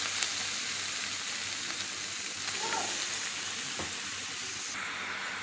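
Chicken pieces frying in a pan with softened tomato masala for a dry chicken fry, giving a steady close sizzle with occasional stirring scrapes and no talking.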